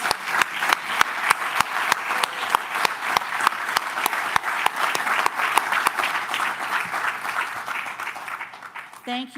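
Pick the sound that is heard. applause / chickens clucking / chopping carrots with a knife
applause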